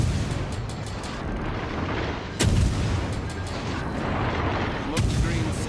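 Bismarck battleship firing its main guns in World of Warships: Legends, two heavy booming salvos about three seconds apart over a constant roar of game ambience and engine rumble.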